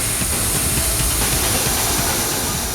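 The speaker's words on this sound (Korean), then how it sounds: "다음은 사포 벨트에 그릇을 마찰시켜 연마하는 작업." Loud, continuous abrasive hiss of a sanding belt grinding against a stainless steel bowl, a harsh steady rushing roar with no pauses.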